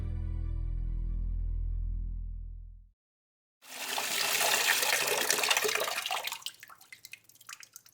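A tap runs in a hotel setting in Thailand. After a low hum cuts to silence, a steady, close hiss of splashing water starts, then thins into softer trickles and drips toward the end.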